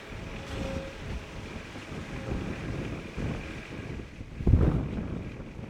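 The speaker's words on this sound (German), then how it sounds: "Es ist komplett zu krass, der Wind eigentlich hier." Strong wind on Lanzarote buffets the microphone, making continuous rumbling gusts that swell and drop, with a heavy blast near the end and no voices.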